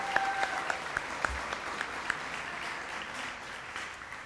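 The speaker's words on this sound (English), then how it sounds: "Round of applause for Carrington" Audience applause at a Hall of Fame induction ceremony for a former All-American hurdler, a room of steady clapping with a few sharp, closer claps and faint whistles standing out early on.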